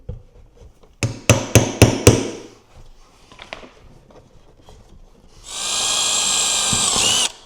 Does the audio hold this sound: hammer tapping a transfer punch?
yes